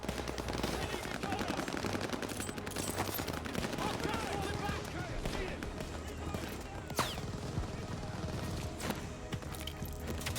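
Sustained machine gun fire rattles through a Call of Duty Vanguard battle scene, dense and continuous bursts mixed with other gunfire, while soldiers shout under the din.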